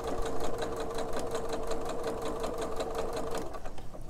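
A Singer Quantum Stylus 9960 sewing machine stitches steadily, its needle clattering in a fast, even rhythm that runs loud and close throughout.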